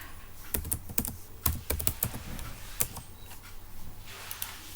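Someone types a bookmark name in MS Word on a computer keyboard: a quiet, irregular run of close key clicks with short pauses and no talking.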